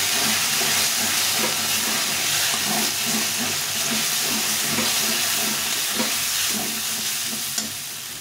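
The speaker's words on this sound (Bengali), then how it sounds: "এই মশলাটা ভালো করে কষিয়ে নিই।" Spice paste is sautéed in a pan, giving a loud, steady sizzle and hiss throughout with faint stirring scrapes beneath it, close and without voices.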